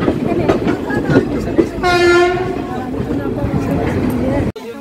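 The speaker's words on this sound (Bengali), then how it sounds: "কাশী ঢুকলো। প্ল্যাটফর্ম দিয়ে দিয়েছে।" Doon Express pulling into Kashi station platform, heard from on board: a steady rumble and clatter of wheels, a single long horn blast in the middle, and voices talking nearby.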